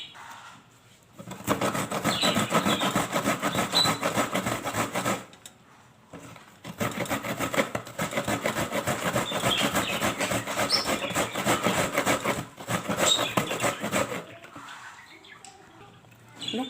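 Coconut is grated by rubbing it against a bowl, producing long stretches of steady, close scraping and rasping, broken by a few short pauses.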